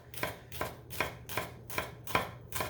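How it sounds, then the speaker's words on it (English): Onions being processed for a goat curry, with seven evenly spaced knife chops on a board in a steady rhythm, close and fairly quiet, no talking. "just processing some onions right now"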